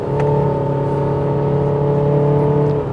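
A Honda HR-V car engine accelerating drones steadily at close range, a continuous low hum with no voices.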